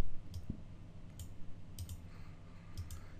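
Computer mouse clicks while choosing gradient colors in Photoshop Elements, sharp quiet clicks spaced out, some in quick pairs, over a faint background with no talk.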